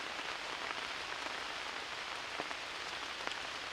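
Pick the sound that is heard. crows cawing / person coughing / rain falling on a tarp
rain falling on a tarp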